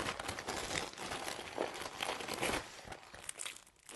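A paper wrapper on a Kinder brioche package crinkles and tears as it is opened close up, producing continuous crackling rustles that taper off near the end.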